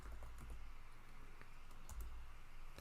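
Keys clatter on a computer keyboard during an Arch Linux install, a steady stream of close, light clicks with a few louder taps, heard alone.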